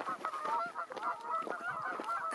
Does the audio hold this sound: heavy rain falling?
no